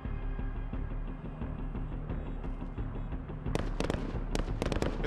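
Gunfire in the Call of Duty Modern Warfare 2019 campaign, with a low rumbling battle ambience and then a burst of sharp, rapid shots crackling over it near the end.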